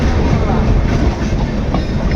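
The Vivek Express running fast through Assam, a loud continuous rumble of wheels on rails with a steady rhythmic clatter, close and alone with no voices.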